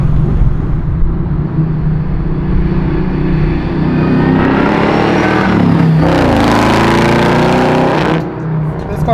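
A 700HP supercharged Chevrolet Camaro Z28 restomod engine accelerates hard, a loud, close, continuous roar that swells and climbs in pitch through several gears before easing off near the end.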